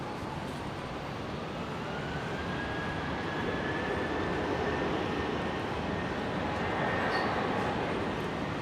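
A Rex Boeing 737 airliner takes off from runway 19 left at Brisbane International Airport, Australia, giving a steady, loud broadband jet roar that holds and swells slightly across the whole stretch.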